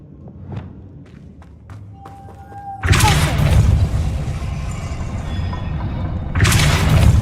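A Depulso spell is cast in the video game Hogwarts Legacy, a sudden loud whooshing burst with a heavy rumbling thump, followed by a second blast near the end after quieter footsteps and clicks.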